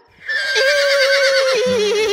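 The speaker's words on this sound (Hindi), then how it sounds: "घोड़ा" A horse lets out a loud, close neigh, a long quavering whinny that holds steady and then drops lower at the end.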